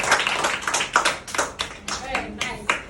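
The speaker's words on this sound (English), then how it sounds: "You want to clap for yourself? Clap for yourself." A group at a school sustainability event claps for themselves in a loose, uneven patter of individual hand claps with gaps between bursts, fairly close.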